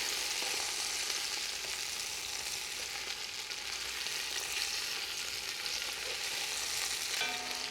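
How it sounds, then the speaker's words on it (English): Seasoned meat browning with onion and garlic in a pan, a continuous crackling sizzle at moderate level, steady throughout, with a brief clink near the end. "we're going to brown them with the onion and the garlic"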